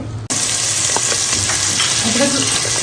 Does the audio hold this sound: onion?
yes